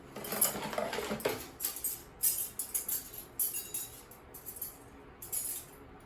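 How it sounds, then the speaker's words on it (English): Silverware and kitchen utensils clink and rattle against each other as they are picked through and sorted in a kitchen sink, a run of close, light metallic taps and jingles with brief pauses between bursts. "Silverware."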